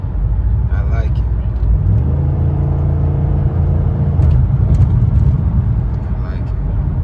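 A Chevrolet Impala SS fitted with a K&N cold air intake runs with a deep, steady engine rumble and a slight rise in revs partway through, heard close and continuous with a voice speaking over it.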